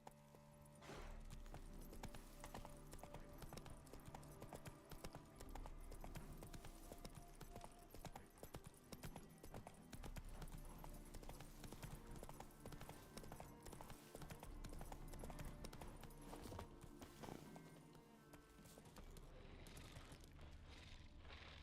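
Roach the horse's hooves clip-clop steadily in The Witcher 3: Wild Hunt, a continuous trotting beat over dense game music and ambience, loud and close throughout.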